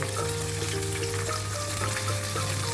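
Tilapia frying in a hot pan, a steady dense sizzle and crackle of oil with small pops, close and continuous, with faint tonal background hum and no voices.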